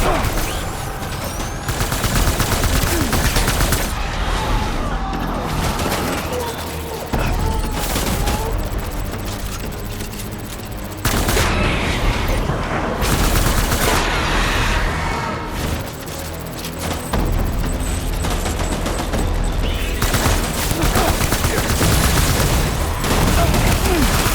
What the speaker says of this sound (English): Shoot them up!